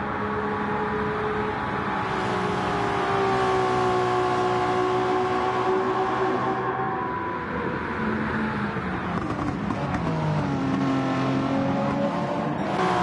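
Race cars roar around Daytona in a PlayStation endurance racing game, engines whining and shifting pitch as several cars pass close together, loud and continuous with no voice over it.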